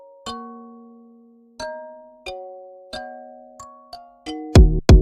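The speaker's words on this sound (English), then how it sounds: "So this is just like children bell." A bright, childlike bell sound from an FL Studio Afro swing beat rings out in a sparse melody, each clear tone struck and decaying, with the last few hits landing closer together and louder.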